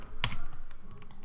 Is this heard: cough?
no